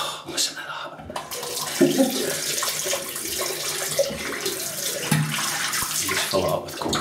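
Cold water gushes steadily from a tap into a sink, a close, continuous splashing rush with slight variations in flow.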